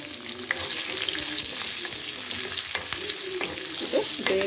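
Green chillies and cumin fry in a pan with a continuous bright sizzle and light stirring scrapes, close and fairly loud.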